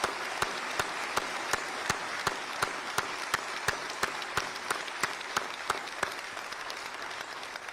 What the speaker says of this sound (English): all of us need to stand up and give all of them a big round of applause